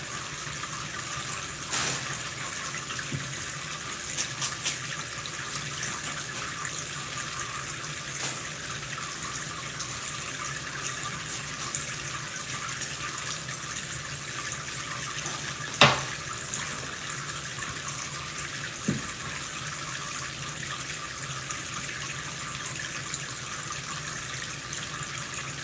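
Steady tap water runs into a sink while greens are rinsed, a continuous even wash with a few faint knocks and clinks of handling along the way; no one speaks.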